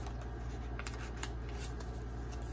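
Pages of a handmade fabric and wallpaper journal for a beach house guest book are flipped, giving soft papery riffles and a few sharper flicks close by over a steady low background hum.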